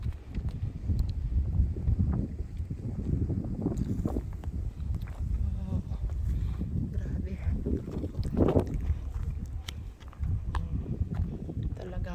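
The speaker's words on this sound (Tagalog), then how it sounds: "Rinig nyo yung hangin na yan." Strong typhoon wind on a Hong Kong hiking trail roars and buffets the microphone in a continuous low rumble, with gusts swelling and easing throughout.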